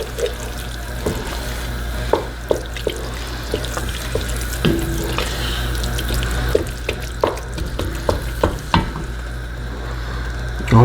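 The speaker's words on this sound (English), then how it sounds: "we're just stirring that around right there like that." Shrimp being stirred through warm gumbo liquid in a pot, a steady watery swishing and sloshing with occasional clinks of a utensil against the pot, close and continuous with no talk.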